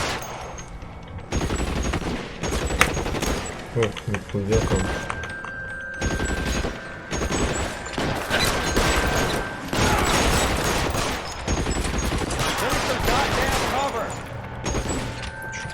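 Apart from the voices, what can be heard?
heavy gunfire in the video game L.A. Noire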